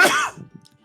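A single loud, abrupt sneeze bursts out close by and is over in a fraction of a second, followed by faint rustling.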